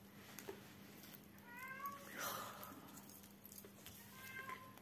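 Several meows from an indoor house cat, some drawn out and rising, a couple of them fairly close, over a steady low hum of a quiet room.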